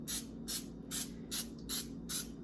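Six quick, evenly spaced hisses of cooking spray misted from a height over oatmeal muffin batter in a kitchen, close and fairly soft, with a low hum beneath.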